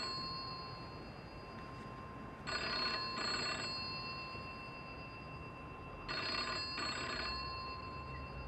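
A telephone rings in two paired bursts, each double trill about half a second long, separated by a few seconds of quiet hum in an indoor room; moderate volume with no talking.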